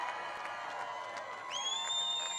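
A big crowd at an outdoor political rally in Mosinee, Wisconsin cheering and shouting continuously, a dense roaring wall of voices with whistles rising over it.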